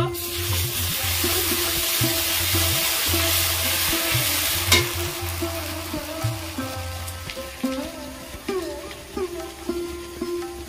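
Chili powder and ginger paste fry in a pan with a bright steady sizzle, stirred against the pan in repeated scraping strokes, close and alone with no talk.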